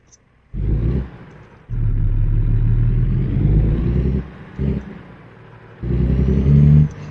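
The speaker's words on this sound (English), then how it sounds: "this truck is a lot louder than the Volvo" A deep video-game truck engine rumbles in several loud bursts, revving up and dropping back between them, heavy and close, in 18 Wheels Rollin'.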